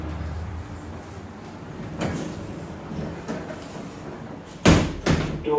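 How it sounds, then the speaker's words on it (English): An automatic public toilet door in New Zealand slides shut with a sharp, loud thud, followed by a couple of lighter knocks, over a low steady room hum. "Door closed."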